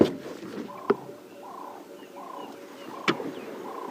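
Soft, repeated cooing calls of Cape turtle doves at a steady rhythm, each a low rounded phrase, with a couple of sharp knocks in between, outdoors on safari.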